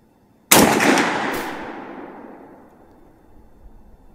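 A single loud gunshot from a Bear Creek Arsenal .458 SOCOM rifle at an outdoor range, a sharp crack followed by a long rolling echo that fades over several seconds.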